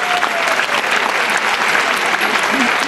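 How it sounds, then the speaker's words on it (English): A live audience at a Christmas concert show in Newcastle cheers and claps, with dense, steady applause filling the room for the whole stretch. "Give him a cheer, everyone."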